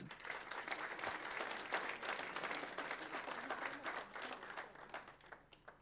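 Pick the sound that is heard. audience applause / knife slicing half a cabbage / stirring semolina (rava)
audience applause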